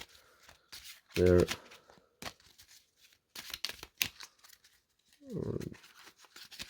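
Playing cards with coarse edges riffle in quick bursts between stretches of quiet handling, with a brief voice cutting in twice.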